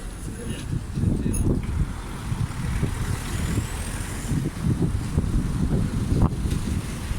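Steady outdoor wind buffets the microphone with low rumbling gusts, while a voice speaks faintly underneath and distant traffic hums.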